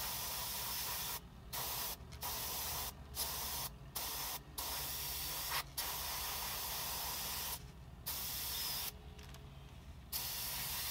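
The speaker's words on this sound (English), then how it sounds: "I'm just going to airbrush underneath," An airbrush sprays dark umber acrylic paint onto a miniature model bush, giving a steady close hiss in repeated bursts broken by several short pauses and two longer gaps.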